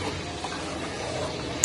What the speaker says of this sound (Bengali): ভালো করে নেড়ে চেড়ে ঝোলটাকে ফুটিয়ে নেব।